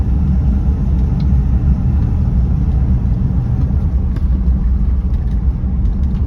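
A 1963 Cadillac Coupe DeVille drives along, shifting up through its gears, its engine a loud, steady low rumble close by with little change in level and no talk.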